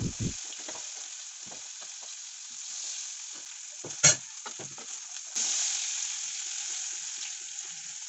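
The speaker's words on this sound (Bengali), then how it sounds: "সিম ভাজা করলা ভাজা ও আলু ভাজা করে নিলাম" Vegetables such as broad beans, bitter gourd and potato frying in a pan in a Bengali home kitchen, a continuous bright sizzle with occasional stirring scrapes and one brief knock, close and steady without speech.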